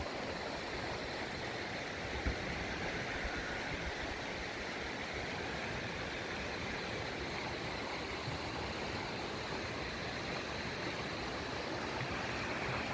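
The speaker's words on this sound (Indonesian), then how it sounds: "Ada sungai di situ, guys, sungai." River running below hills near a Batak village, a steady, faint broadband rush of flowing water that continues evenly throughout with no other sounds.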